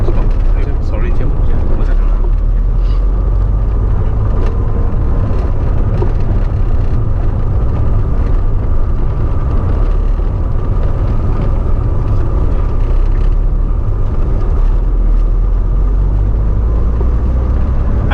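A Lancia Delta Integrale turbo car pulls through second gear, its engine droning steadily and loudly from inside the cabin while someone talks over it.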